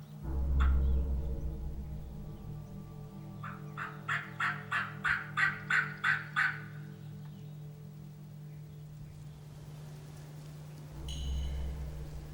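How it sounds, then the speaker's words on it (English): Several wild turkey longbeards gobbling across an open field: a short gobble near the start, then a loud rapid rattling gobble of about eight pulses, and another brief call near the end, at moderate distance over low ambient hum. "We got multiple gobblers out here strutting for a couple hens."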